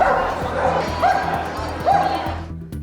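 Dogs bark and yip inside a museum in Athens that admits pets, several sharp barks repeating at moderate distance over steady background noise.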